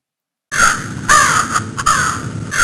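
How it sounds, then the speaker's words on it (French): A crow cawing loudly and close, a series of harsh, rasping calls starting after a brief silence, some caws long and others clipped short, heard alone. "Un corbeau."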